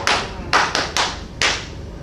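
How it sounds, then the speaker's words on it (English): A group finishes with a three-clap closing: five sharp, fairly close hand claps in an uneven rhythm, each standing alone with quiet gaps between them. "it ends with a 3 clap closing, which we're going to practice"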